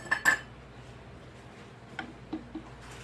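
A spoon knocks against a pot while homemade chunky garden vegetable spaghetti sauce is stirred, a few quick metallic clinks at the start, then scattered softer taps over a quiet background.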